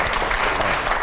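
Studio audience applause during a televised Hindi political interview, a short, loud, continuous burst of clapping with no gaps.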